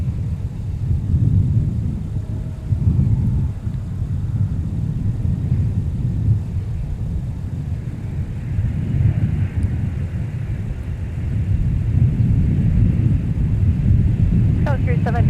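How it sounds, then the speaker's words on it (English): A SkyWest airliner arrives at Minneapolis–Saint Paul airport, its engines giving off a steady low rumble that swells toward the end, with faint, distant radio chatter beneath it. "We got SkyWest now arriving from Madison,"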